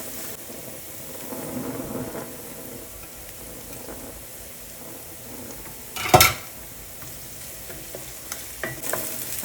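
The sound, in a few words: vegetables sautéing in a pan until translucent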